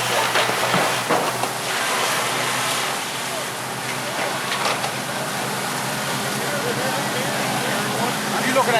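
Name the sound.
firefighters pouring a water stream onto a burning building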